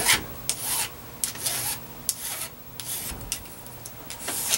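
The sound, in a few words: filing the edges of a rubber band gun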